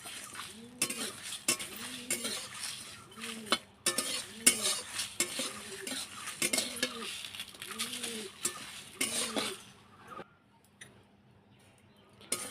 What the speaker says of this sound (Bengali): এলাচ সব একসাথে ভালো করে ভেজে নেব।